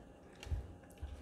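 A bite into a crunchy Jollibee fried chicken drumstick, close and quiet, with two soft crunching chews spaced about half a second apart.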